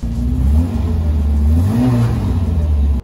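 A Honda S800 sports car, a 1-liter roadster or coupe with a 10,000 RPM engine, revs loudly and close by, its buzzing engine note rising and falling steadily before cutting off abruptly.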